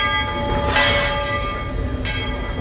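The Magic Kingdom railroad train at Walt Disney World, decorated for the season, rumbles past steadily and fairly close with rolling rail noise and a brief higher whine, no talking.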